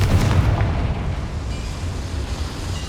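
A Confringo explosive spell blast in Hogwarts Legacy erupts as a loud, booming burst that rolls into a sustained, rumbling roar lasting several seconds, with no voices.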